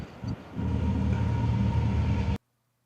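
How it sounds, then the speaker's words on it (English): A train rolls past, making a steady, loud, broad rumble that swells after a brief dip and holds evenly before cutting off abruptly. "Here comes the train."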